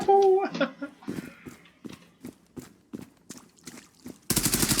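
Rapid gunfire from the online shooter Zula comes in sharp, regular bursts of single shots, with a dense automatic volley at the end, while a voice speaks over the start.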